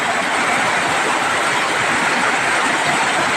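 Heavy early-morning rain pours onto a flooding street, making a loud, unbroken roar of water with no pauses and no voices.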